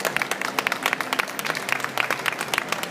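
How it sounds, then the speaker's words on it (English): Applause from a modest audience at a wedding makeover stage event, individual claps distinct and rapid, fairly close and lively throughout. "let's give Emily a round of applause"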